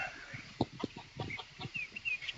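Chicken clucking in short, uneven bursts during a chicken-versus-dog animal encounter, moderately close, with a scattered busy background and no speech.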